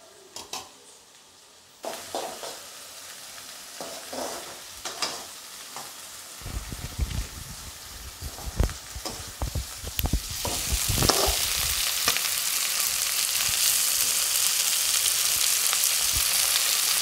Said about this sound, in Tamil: சேர்த்து நன்கு வதக்குவோம், பொன்னிறமாக வதக்குவோம்